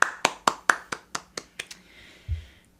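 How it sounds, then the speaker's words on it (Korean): Around eight sharp claps sound in even rhythm, near and fairly crisp, slowing and fading toward the end, marking the welcome of a guest at a talk on art, followed by a brief low thump. "박수로 맞아주세요."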